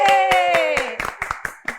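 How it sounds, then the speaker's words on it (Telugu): An audience claps for a debut movie director at a film team interview event, with a short burst of close hand claps, some separate and some overlapping, under the tail of a voice that fades as the clapping continues. "give him a big round of applause"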